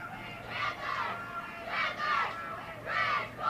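Crowd of roughly 300 spectators at a high school soccer match between Cinco Ranch and Ridge Point in Katy, cheering in three swelling bursts about a second apart over a steady hum, with a few voices standing out.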